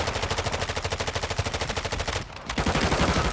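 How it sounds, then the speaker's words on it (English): Rapid automatic gunfire from an enemy shooting off a rooftop in a video game: loud, close, evenly spaced shots in a sustained burst, a brief break, then the firing resumes. "There's a guy on the roof shooting at all these guys."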